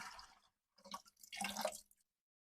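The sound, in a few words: water draining from filter lines after releasing pressure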